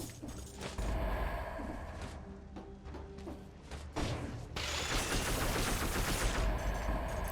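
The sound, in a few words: exploding eggs fired in video game Dead Cells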